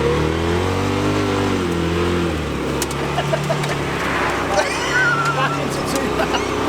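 An off-road buggy engine revving through mud, a close mid-pitched drone that shifts pitch as it works the throttle, with splashing and a voice speaking over it.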